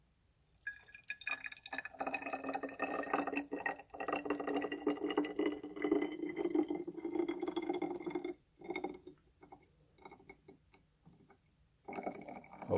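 Hot sauce poured from a bottle into a bendable plastic cup, a steady close liquid trickle with glassy ringing tones for several seconds, briefly pausing and resuming near the end.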